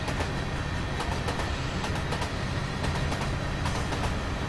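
An SD70 diesel locomotive rolls past on Sherman Hill in Train Simulator 2016, a steady broad rumble with faint rhythmic wheel clatter holding even loudness throughout.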